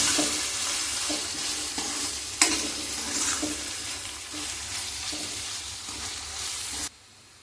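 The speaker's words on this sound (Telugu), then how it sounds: "ఉల్లిపాయ ముక్కలు అల్లం వెల్లుల్లి పేస్టు పచ్చివాసన పోయే వరకు ఫ్రై చేసాం కదండి." Onion pieces fry with ginger garlic paste in a pan, giving a continuous close sizzle broken by scraping stirs and one sharp knock partway through. No one talks, and the sound cuts off abruptly near the end.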